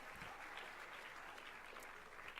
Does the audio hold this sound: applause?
yes